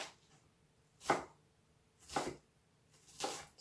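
A knife cuts through an onion in a home kitchen, three separate crisp chops spaced about a second apart, close and fairly quiet against a calm background.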